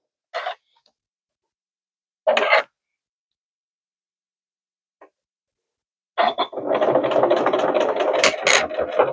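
A sewing machine stitches through a quilted pot holder, starting with a few short isolated bursts and then running in a steady, close, loud mechanical whir to the end.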